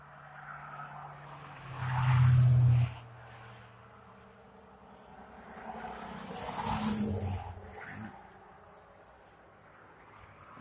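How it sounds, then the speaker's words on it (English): Vehicles pass on a busy road near an abandoned site, each one swelling into a rushing whoosh and then fading, with one louder close pass early and a softer pass later, no talking. "Sorry about the traffic"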